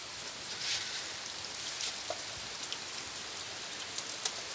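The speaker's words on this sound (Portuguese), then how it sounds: "Olha aqui a chuva. 10 dias tá caindo chuva assim, ó." Heavy rain pouring steadily outdoors after days of downpour, a dense continuous hiss with occasional nearby drips and splats, no voices.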